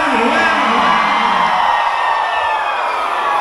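Loud crowd at a live music show at a town festival in Ponte Branca, Mato Grosso, Brazil, whooping, yelling and cheering in a dense, continuous roar that fills the whole stretch.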